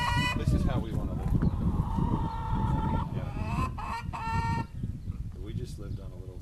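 Chickens cluck and squawk close by, several birds calling over one another with steady background noise.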